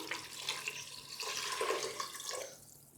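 Water pours steadily into a pressure cooker holding mutton and tomatoes for a stew, a soft, close splashing stream that tapers off at the end.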